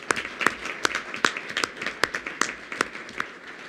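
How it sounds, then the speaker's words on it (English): Audience at a school board of education meeting applauding for middle school honors ensemble students and staff; sparse, uneven claps from a modest crowd, fairly close, steady for a few seconds then thinning. "Let's give those students and staff a round of applause as well."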